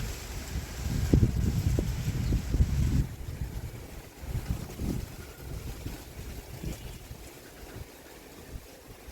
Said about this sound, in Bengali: বাতাসের শব্দটাও বেশ ভালো লাগে আমার কাছে